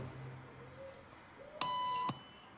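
A single electronic bell tone sounds for about half a second, steady and fairly quiet, in an otherwise hushed room.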